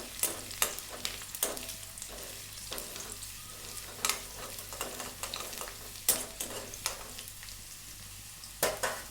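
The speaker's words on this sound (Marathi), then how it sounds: "जिरं, जिरं आपण परतून घेऊ." Cumin seeds sautéing in a pan, a low continuous sizzle broken by repeated sharp scrapes and clatters of a spoon stirring, irregular and close, with no talking.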